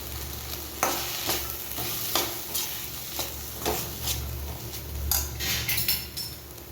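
Grated raw mango is stirred into cooked sprouted moong in a pan. A spoon scrapes and clinks against the pan at irregular intervals over a steady background sizzle.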